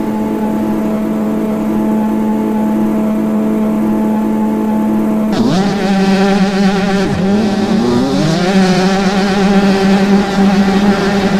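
A dirt bike engine in MX Bikes idles with a steady drone, then revs sharply and keeps climbing and falling in pitch through repeated throttle blips, loud and close throughout.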